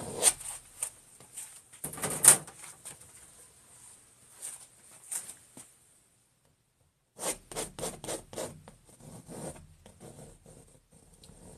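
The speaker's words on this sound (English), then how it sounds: "we're just scraping it off, that's all. Get all that paint off" A scraper rasps paint off a painted surface in bursts of scratchy strokes, with a silent gap in the middle before the scraping picks up again, close and alone without talk.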